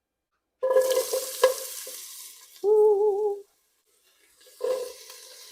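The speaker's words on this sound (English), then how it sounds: "Don't you just love the sizzle?" Onions hiss and sizzle in a frying pan on medium-high heat in short bursts with gaps of quiet between, and a voice briefly exclaims during the first burst.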